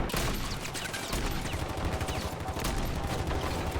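Rapid gunfire from the video game Warzone, dense bursts of shots rattling almost continuously at moderate loudness with a brief lull near the one-second mark.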